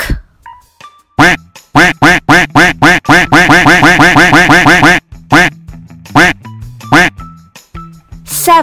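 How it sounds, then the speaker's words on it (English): A duck quacks in a rapid run of loud, close, nasal calls, first spaced, then a fast continuous burst, followed by a few scattered quacks. "duck."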